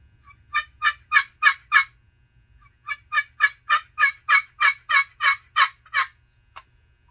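A wooden turkey box call played to imitate a young hen gives two series of sharp, rhythmic yelps, five and then about nine evenly spaced notes, close and clear over a quiet background.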